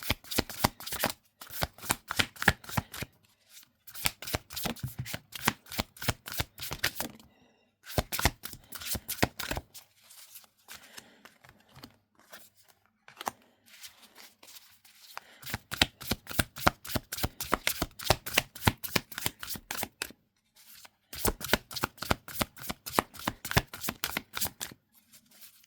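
Tarot cards riffled and shuffled in rapid bursts of crisp, fluttering clicks, close and loud, each flurry lasting a few seconds with brief pauses and softer handling between them, no talking.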